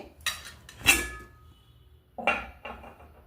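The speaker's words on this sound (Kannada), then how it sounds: "ಈಗ ತೆಗಿತೀನಿ ಪ್ಲೇಟು" Metal idli plates lifted out of an idli cooker after steaming, giving a few sharp clattering clinks and scrapes in two separate bursts, close and fairly loud against a quiet kitchen.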